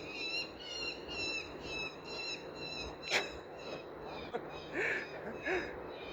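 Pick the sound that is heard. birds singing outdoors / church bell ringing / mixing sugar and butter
birds singing outdoors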